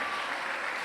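A church congregation clapping together in a brief, dense burst of steady applause that fills the room.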